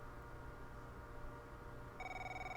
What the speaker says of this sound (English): expect a phone call